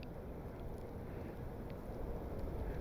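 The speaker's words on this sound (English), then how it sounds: "And the wind has really picked up the last few minutes." Strong gusty wind roaring steadily across an airport during plane spotting, a dense broadband rush that stays loud and unbroken throughout, with no voices.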